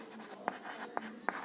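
Pen or pencil writing on paper, a steady scratchy stroke with three sharper taps at the ends of marks, close and fairly quiet with no talk.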